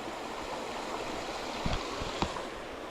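Steady broadband rush of river rapids flowing beneath a bridge at a fishing spot, continuous and fairly close, with a couple of brief low thumps near the end and no voices.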